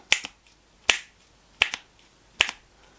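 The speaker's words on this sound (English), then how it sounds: "So I'll look for one that makes it pop, or gives it a nice click" Clicky snare or clap drum sample in a hip-hop beat, four crisp, sharp hits spaced evenly, each with a quick second flam-like click, dry and alone.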